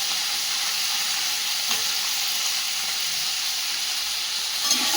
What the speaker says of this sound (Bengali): খুব কড়া করে ভাজবো না, হালকা ভেজে নেব।